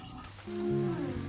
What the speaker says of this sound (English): It's my first rain in Thailand.